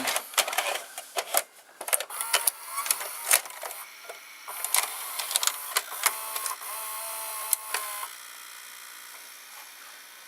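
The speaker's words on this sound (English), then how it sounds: "So there's the loading motor." JVC HR-A56U VCR loading a tape, a busy run of mechanical clicks, whirs and ticks from the motor and gears, close and clear, easing into a steadier hum at the end.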